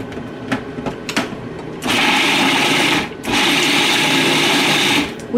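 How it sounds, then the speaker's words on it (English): A food processor pulses basil pesto with walnuts: short bursts of whirring at first, then two long loud runs of the motor separated by a brief stop, with no talk. "So Anna's pulsing it to kind of get it to a nice fine consistency, and then she's adding in the walnuts."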